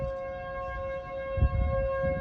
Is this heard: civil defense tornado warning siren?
yes